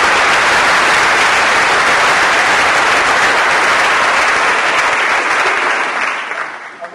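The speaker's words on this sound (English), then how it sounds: "If you could give them a round of applause." Sustained applause from the audience at a sheriff's office peace officer graduation ceremony, dense continuous clapping that holds steady and then fades out in the final second.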